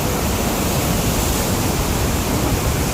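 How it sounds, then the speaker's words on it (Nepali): Rushing mountain river beside the Gaurikund to Kedarnath trekking path, a dense, steady roar of whitewater that stays loud and unbroken throughout, with no voices over it. "यत्रो पर पनि खोला यहाँनिर छ है"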